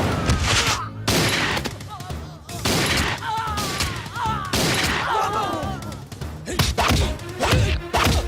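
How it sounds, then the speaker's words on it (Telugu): Rapid bursts of gunfire ring out in a comedy film scene, loud sharp volleys repeating across the stretch alongside thuds and crashes, with voices in between. "అక్కడ కాల్చు."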